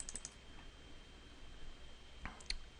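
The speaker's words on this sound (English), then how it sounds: "all I have to do is double click on that." A computer mouse clicks during a SQL Server 2008 installation: a quick cluster of sharp clicks at the start and a crisp double click near the end. The clicks are close and clear against a quiet background hum.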